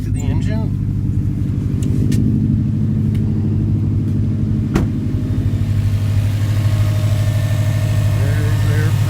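A 2012 Subaru Impreza WRX STI hatchback engine idles up close with a steady, loud, low rumble that continues throughout, while someone talks over it and a faint click sounds midway.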